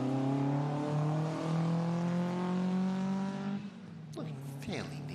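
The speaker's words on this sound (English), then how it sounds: "Brian Melbourne is due next, car 132, Mark I Ford Escort. Another 2-litre car." A Mark I Ford Escort 2-litre touring car at a hillclimb-style sprint, its engine droning loud and steady with rising harmonics as it accelerates past, then fading and dropping in pitch; a commentator talks over it.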